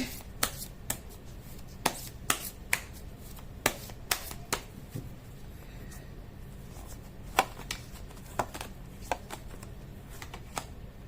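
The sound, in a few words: shuffling tarot cards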